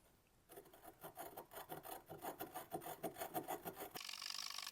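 A No 7 Bailey-style jointer plane is rocked back and forth over lapping compound, giving a rhythmic series of close, gritty rasping strokes, about a dozen in quick succession, followed by a brighter hiss.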